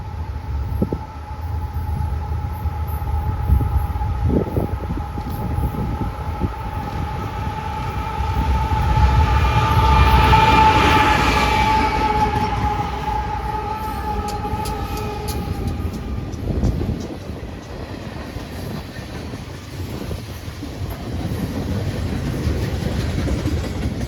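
A BNSF freight train with a typical locomotive lash-up rolls past on the Fort Scott Subdivision, a steady rumble and clanking of cars building to a louder swell midway, with a faint horn tone and squealing wheels.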